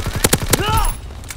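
An MP40 submachine gun in Call of Duty WW2 fires a short burst of four or five sharp, close shots in quick rhythm, followed by ringing, whistling tails as the shots fade.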